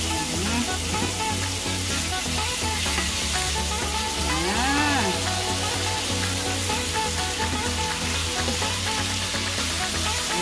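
Food sizzling steadily in a hot pan while sautéing ingredients for a mung bean stew, a constant dense frying hiss with stirring, close and loud, with no talk.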